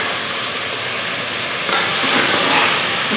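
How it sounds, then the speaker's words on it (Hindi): Water hits a hot spinach tadka in a pan, a loud, steady, bright sizzle and hiss that surges a little stronger partway through. "पालक को तड़का लग चुका है, अब इसमें डालेंगे हम पानी।"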